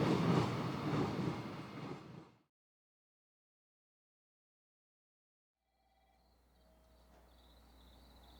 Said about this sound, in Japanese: 4093列車、鹿児島貨物ターミナル行きです